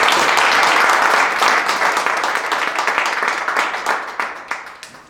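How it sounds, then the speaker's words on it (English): A loud, close round of audience applause at a club meeting for speakers and volunteers, steady dense clapping that thins toward the end into a few scattered, sharper claps. "Can we give them another hand of applause?"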